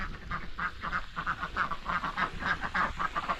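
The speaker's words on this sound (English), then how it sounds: "And then of course Teresa's ducks" Farmyard ducks quacking in rapid, repeated bursts on a Montana farm, a dense rhythmic chorus close by and fairly loud, with no talking.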